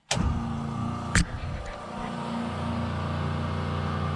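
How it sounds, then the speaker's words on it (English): Electric fuel pump switching on in a 1965 Impala SS drag car, a sharp click followed by a steady, close mechanical hum and whine that holds evenly to the end. "Now, I can turn on my fuel pump again."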